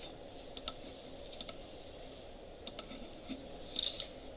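Quiet, sparse keystrokes on a computer keyboard during a web development lecture, scattered clicks over a low room hiss with no talking.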